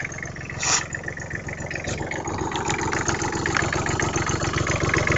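Small diesel engine idling just after a cold start, a steady close rattling chug with a fast even pulse and a brief rise near the start, with no voices.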